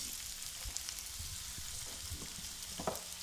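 Chopped onions sauté in hot olive oil in a pan, producing a soft, continuous crackling sizzle close by with occasional spoon stirring and no speech.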